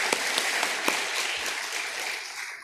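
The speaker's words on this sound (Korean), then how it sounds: "우리 중고등부 청년부를 향해서도 박수로 한번 축복하시겠습니다." A church congregation claps for the youth and young adult groups during a service, a dense, steady wash of applause that fades slightly toward the end with no talking.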